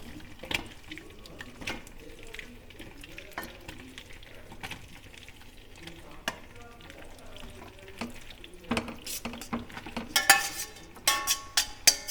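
Cooked pasta tipped into a pan of mayonnaise sauce, giving soft wet squelches and scrapes, a faint sizzle, then sharper clinks and louder stirring toward the end, with no talk.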